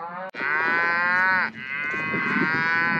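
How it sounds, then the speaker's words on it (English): Hereford-dominant mature cows bellow in a sorting pen before moving to breeding fields, one long, loud, near moo followed by a second sustained call, no talk. "So these cows are Hereford dominant."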